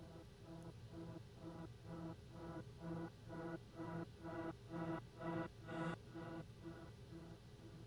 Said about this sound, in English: I've got this little riser I've created here.